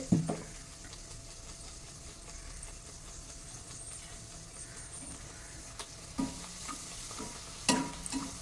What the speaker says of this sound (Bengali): একটা ভাজি তো একটা বেলি দেখো লুচিটা কিন্তু আমার ফুলতে শুরু করেছে